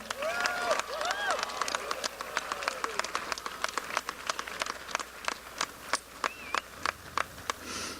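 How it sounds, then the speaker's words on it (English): A graduation audience applauds the Helena High Senior Choir at a 2017 high school ceremony. Crowd clapping fills the room, dense at first, then thinning into scattered individual claps with some voices and whistles mixed in. "another round of applause for Miss Molly Steele and the Helena High Senior Choir"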